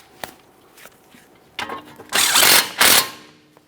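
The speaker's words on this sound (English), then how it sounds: "Start in your 12mm headed mounting bolt and snug it up" A ratchet tightens a 12mm mounting bolt on a 2015-2019 Subaru Outback front strut, first with a few isolated clicks, then two close, loud bursts of rapid ratcheting.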